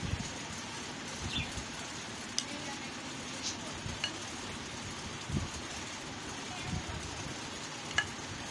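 A spoon mixes white chickpea chaat with fried potatoes and namkeen in a bowl, giving soft, scattered scraping and tapping strokes at an irregular pace over a low, steady background hum.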